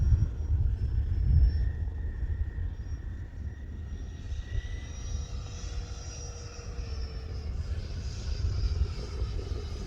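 A Freewing F9F Cougar RC jet flies in to land at a flying field, a faint distant whine and rumble of its ducted fan drifting over steady wind noise, with no talk.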